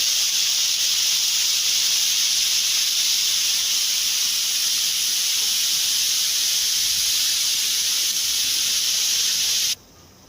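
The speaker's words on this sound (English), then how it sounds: "And it is frying for like a minute on each side." Pork chops sizzle loudly and steadily, shallow frying in a hot pan, a constant close frying hiss that cuts off at the very end.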